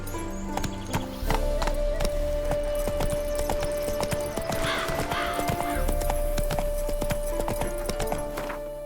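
Roach, Geralt's horse in The Witcher 3: Wild Hunt – Blood and Wine, gallops with rapid rhythmic hoofbeats over a steady game music drone, and a whinny rises midway.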